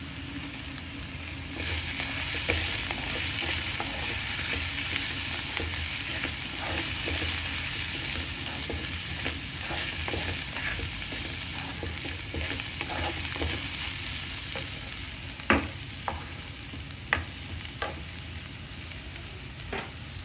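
Onions frying in a pan for egg curry, a steady close sizzle with scraping stirs and small ticks, alone without talk, fading somewhat toward the end.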